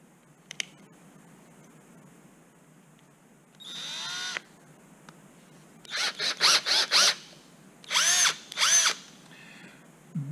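A power drill spins a carbide 0.095 reamer through holes in aircraft vertical stabilizer parts, a short run first and then quick bursts of high whirring, close and loud over a quiet room.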